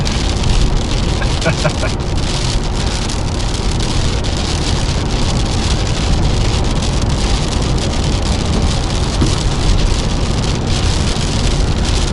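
Steady, dense hiss of rain falling throughout, with rumbling wind or traffic-like noise underneath and no voices.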